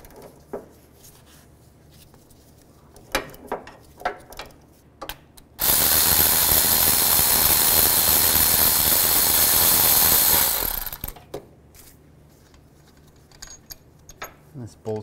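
A ratchet with a 13 mm socket working a bolt on a Chevy Equinox engine's timing cover area, with scattered metallic clicks and clanks, then a loud sustained burst of rapid clicking lasting several seconds before quieter handling noises return.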